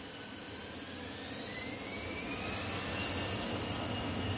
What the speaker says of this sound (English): just arriving is Lufthansa A320 from Munich